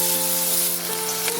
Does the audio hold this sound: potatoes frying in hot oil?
yes